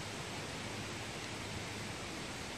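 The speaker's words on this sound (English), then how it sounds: "Sorry about the wind today" Outdoor wind blows into the microphone during a metal detecting outing. It makes a steady, even, broadband hiss and rush that stays constant and fairly faint, with no talk.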